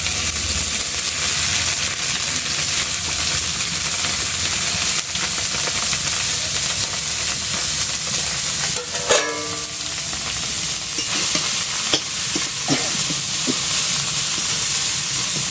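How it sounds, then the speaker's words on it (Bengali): Greens are stirred and fried in a wok with a continuous hissing, steamy sizzle, and now and then a spatula scrapes or knocks against the pan, close up with no talking. "শাকটা নেড়ে চেড়ে আমি এখন পরিমাণ মতন লবণ হলুদ দিয়ে দেবো।"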